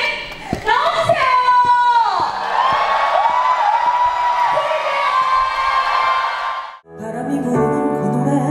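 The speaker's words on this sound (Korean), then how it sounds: "여러분 정말 큰 함성으로 맞아주시면 감사합니다" Loud crowd cheering and whooping, with high-pitched shouts, fills a venue as an audience welcomes Jung Eun-ji, author, onstage at an event, sustained for several seconds before giving way to music.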